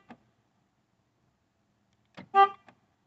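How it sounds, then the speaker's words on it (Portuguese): A Renault Logan/Sandero car horn gives one short honk triggered from the key button, preceded by faint clicks, in an otherwise quiet space. "Quando eu apertar qualquer botão da chave, o carro vai buzinar, ó."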